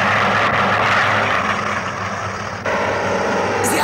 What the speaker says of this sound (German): Wartet, ich höre eine Corsair.